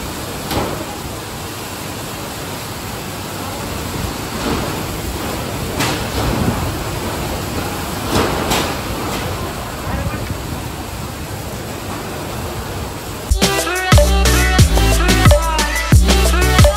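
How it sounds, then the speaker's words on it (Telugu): Heavy rain pours steadily outside during a lunch stop, a dense broadband hiss that holds for about thirteen seconds, under faint background voices, before loud music cuts in. "మేము లంచ్ చేసుకునేంతసేపు వర్షం ఒక ఊపు ఊపేసింది బయట"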